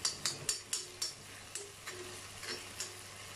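Dry fish thokku simmers in a pan with a soft, low bubbling sizzle and a series of light ticking pops that come closer together at the start, then fade. The sound is quiet and close, with no voices.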